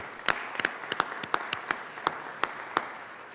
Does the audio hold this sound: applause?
yes